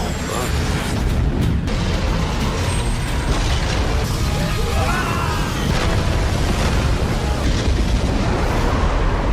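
In the Soul Land 2 anime, a massive blast from an attack spreads across an undead army, heard as a loud, sustained roaring explosion that fills the whole stretch without a break.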